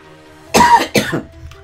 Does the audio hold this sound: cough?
yes